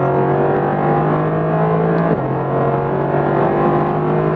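A Mercedes-AMG GT R in sport plus mode drives hard, its engine giving a loud, continuous droning roar with a brief dip partway through, as heard from inside the car.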